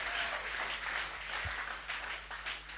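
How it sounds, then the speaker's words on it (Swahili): A church congregation breaks into sustained applause, a steady wash of clapping heard from some distance at low volume. "Situpigie Bwana makofi mazuri kuliko hiyo"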